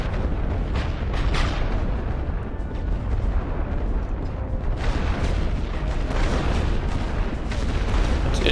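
A continuous artillery barrage in the WWI strategy game The Great War: Western Front, with heavy booms and explosions rumbling one over another at a loud, unbroken level.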